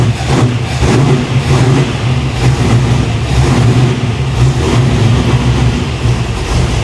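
A 500hp 1987 Chevy Monte Carlo SS engine runs loud and close with a steady rumbling idle and repeated revs, its tailpipe loose, with no talk over it.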